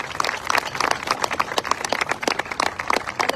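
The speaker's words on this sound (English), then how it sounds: "let's give a warm round of applause for all of our distinguished speakers" An audience at a commemoration opening ceremony applauds, a dense steady patter of many hands clapping with no voices on top.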